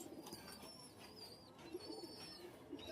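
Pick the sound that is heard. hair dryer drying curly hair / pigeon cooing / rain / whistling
pigeon cooing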